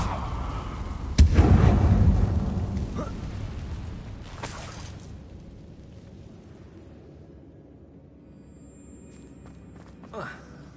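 A Confringo fire blast spell from Hogwarts Legacy bursts as one loud booming blast with a rumbling tail that fades over several seconds, followed by a second, smaller burst, all under a faint game backdrop.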